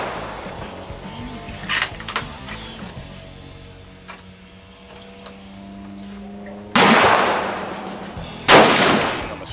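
Rifle shots ring out at a shooting range at the Charlotte Rifle Pistol Club, a few sharp separate cracks spaced seconds apart, the last two loudest and closest, over a quiet hum.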